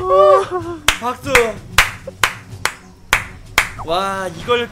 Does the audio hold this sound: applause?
yes